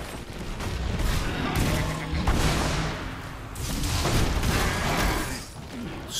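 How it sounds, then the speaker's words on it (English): A series of booming blasts and crackling bursts from an explosion in the video game Diablo 3 rolls on in waves over several seconds, dense and loud. "the explosion actually did a lot of damage there"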